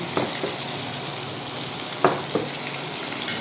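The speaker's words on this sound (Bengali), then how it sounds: "আর মাছ ভাজা হচ্ছে এগুলো মাছ আমি হালকা করে ভাজবো" Fish frying in oil, a steady close sizzle with a few sharp pops and spatters, no voices.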